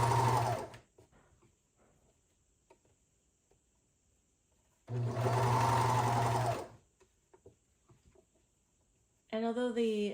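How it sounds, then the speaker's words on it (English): Serger overlock machine stitching a bra seam, two loud bursts of rapid mechanical whirring about two seconds each, separated by quiet pauses, with a third burst starting at the end. "I just use my serger and just kind of do basically 1/4 of an inch"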